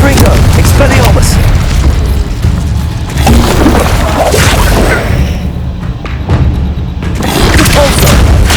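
A spell duel in Hogwarts Legacy sets off a rapid barrage of loud, close booms, thuds and crashing blasts, with a voice calling out over the din.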